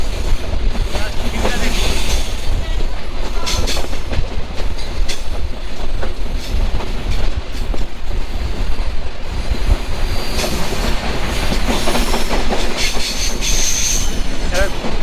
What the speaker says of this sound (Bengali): এরকম লাক্সারিয়াস এক্সপ্রেস ট্রেন ভ্রমণ